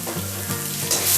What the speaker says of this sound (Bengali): দিয়ে এটাকে নিয়ে ভালো করে তেলের মধ্যে একটু ভাজা ভাজা করে দিতে হবে